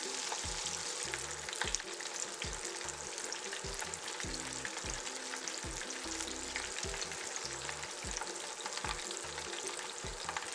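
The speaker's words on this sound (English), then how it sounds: "This type of frying is called flash frying, and they are nice and golden brown in minutes." Chicken wings flash fry in hot oil, giving a dense, continuous crackling sizzle that stays close and even throughout with no voices.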